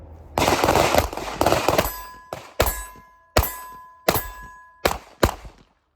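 A Fusion Firearms XF Pro pistol fired outdoors, about nine sharp loud shots in uneven bursts, each with a short ringing metallic clang of steel targets trailing after.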